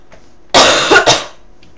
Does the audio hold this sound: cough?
yes